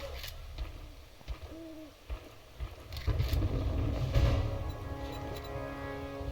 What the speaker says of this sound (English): I see that we've summoned birds upon me.